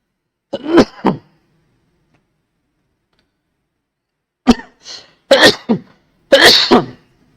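A series of sharp coughs, one pair at the start, then a cluster of three or four harsh bursts after a pause, close and fairly loud.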